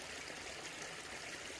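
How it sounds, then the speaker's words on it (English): Water of Justice Creek flows steadily along a trail, a soft continuous rush and trickle with no voices. "Justice Creek."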